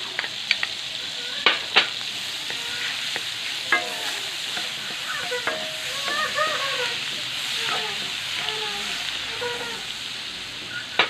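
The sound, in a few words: garlic and onion sauteing in melted butter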